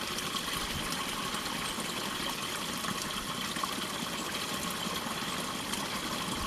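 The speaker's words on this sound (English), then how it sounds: "Little waterfall now" Small waterfall beside a pool, splashing and rushing in a steady, continuous broadband wash at close range, with no voices over it.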